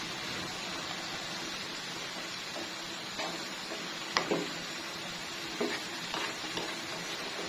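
Mixed vegetables simmering over medium-low heat in a pan, with a steady sizzle and several soft scraping stirs that arrive in small irregular clusters, close and fairly quiet.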